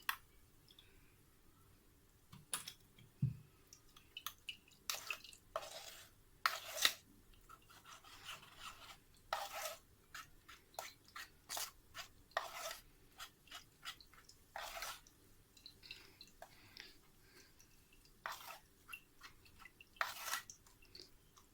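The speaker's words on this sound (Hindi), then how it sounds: "स्पून से हम इसको अच्छे से हम प्रेस करते जाएंगे और हमारा एप्पल जूस निकलता जाएगा" A spoon presses apple pulp against a strainer to squeeze out juice, making faint, intermittent scraping and rasping strokes with short pauses between them, quiet and close.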